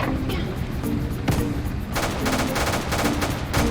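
A 37mm tank cannon fires in the Roblox game Multicrew Tank Combat 4, sharp repeated shots over a constant engine rumble, with a rapid rattling burst in the second half.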